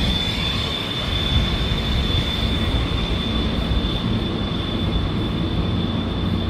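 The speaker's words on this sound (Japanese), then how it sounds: "5番線に SL 電車到着です。" A C58 steam locomotive pulling 12-series coaches rolls into Kumagaya Station loudly and steadily, a constant high metallic squeal of wheels riding over a dense rumble with no pauses.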